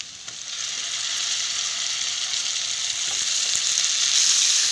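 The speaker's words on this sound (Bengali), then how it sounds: "এবার এর মধ্যে আমি মাছগুলো দিয়ে দেবো, কাঁচা মাছগুলো যেগুলো আমি নুন হলুদ দিয়ে মেখে রাখছিলাম।" Raw fish pieces, rubbed with salt and turmeric, fry in hot oil over onions that are already browned. A steady, close sizzle with a broad hiss runs throughout and grows slightly louder toward the end, with no voices.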